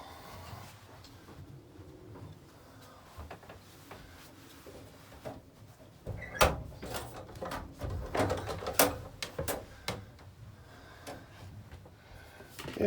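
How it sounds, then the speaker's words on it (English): The rear doors of a step van rattle and clank open after several seconds of quiet handling, with a burst of close metallic latch clicks, thumps and creaks in the second half. "if I can get these doors open"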